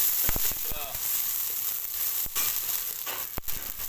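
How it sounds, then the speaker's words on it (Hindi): Steady frying sizzle of garlic ginger paste in a hot pan, with a few sharp clicks and crackles breaking through the continuous hiss. "अब मैं शामिल करता हूँ इसमें लहसुन अदरक का पेस्ट"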